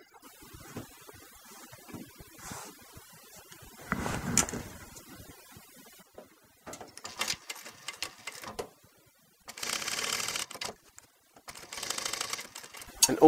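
A sewing machine stitches upholstery fabric for a custom bench seat cushion in several quick mechanical bursts of rapid clatter, separated by pauses and soft handling noises, close and moderately quiet.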